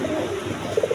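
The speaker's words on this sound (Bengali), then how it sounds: "এখানে দুইটা গররার নর কবুতর আছে, দেখেন প্রচুর ডাকা ডাকেন নরগুলা" Male Gorra pigeons coo at close range, a few soft rounded calls arriving near the end of a brief, quiet moment.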